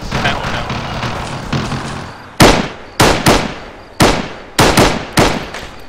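Airsoft guns open fire in a outdoor skirmish, six sharp loud cracks in irregular bursts after a stretch of murmuring voices and background noise.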